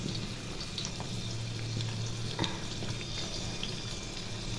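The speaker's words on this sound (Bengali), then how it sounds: "তাড়াতাড়ি ভাজা বসালাম, বেগুন বেগুন, আলু আর কুমড়ো ফুল" Eggplant, potato and pumpkin flowers fry in oil in a home kitchen, a soft steady sizzle with faint clinks and stirring, fairly quiet and without talk.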